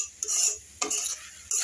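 Snake gourd bhaji sizzles in a pan as green chilies go in, with a spoon scraping and stirring in three short bursts over a soft, steady frying hiss.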